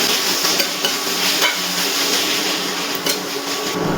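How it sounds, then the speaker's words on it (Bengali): Mutton keema is sautéed with spices in a pan, giving a continuous close sizzle with steady scraping and stirring throughout. "মাটন কিমার সাথে সব মশলাগুলো ভালো করে মিশিয়ে নেওয়ার পর এবার আমি ভালো করে কষিয়ে"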